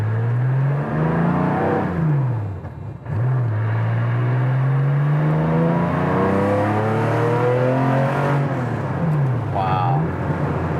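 A heavily modified Porsche 911 engine built up by CSF revs repeatedly, rising and falling in strong sweeps over a lumpy idle, loud and close, while people talk over it.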